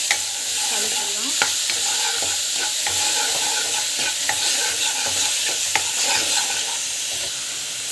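Ground onion paste being stirred into frying cumin in a pan, a loud continuous sizzle with regular spatula scrapes and taps against the pan throughout.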